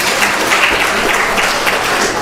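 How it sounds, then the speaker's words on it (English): Steady applause from a crowd at a Sunday feast, clapping to congratulate someone, loud and close, with no voices over it. "Big round of applause for her"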